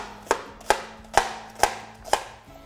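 A knife chops white onion on a board in five sharp, evenly spaced strikes about half a second apart, close and clear over a quiet kitchen background.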